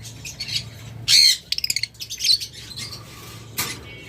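Pet birds kept on a rooftop squawk and chirp close by, with a few loud harsh calls and a quick burst of repeated chirps standing out over quieter background calls.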